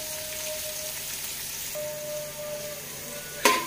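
Onions frying in a pan with tomato, mint and coriander, a steady soft sizzle throughout with a brief louder clatter near the end.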